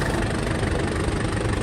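A 2800 cc intercooled engine runs loud and close in a steady, continuous drone with no clear rise or fall in pitch.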